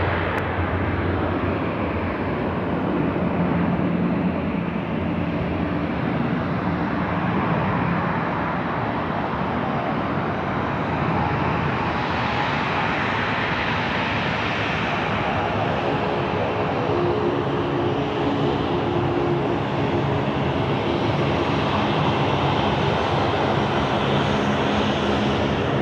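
Qantas jet taking off from Sydney Airport at night for the Gold Coast, a loud sustained engine roar that builds and holds with a slowly shifting whine, heard from a distance.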